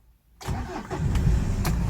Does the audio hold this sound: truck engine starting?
yes